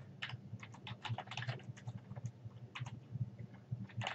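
Computer keyboard typing a document name in Microsoft Word: a steady run of close, light key clicks with a faint low hum underneath.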